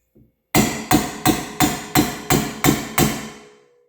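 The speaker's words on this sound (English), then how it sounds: "We're going to tap that one with a hammer." A short faint tap, then eight sharp metallic hammer strikes in a steady rhythm on a valve in a Harley Shovelhead cylinder head, each ringing briefly before the next, close and loud with no talking.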